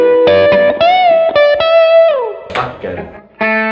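A Line 6 Variax modelling electric guitar rings out, then its tone abruptly shifts to a different, brighter chiming character after a switch, with a fresh strum at the end.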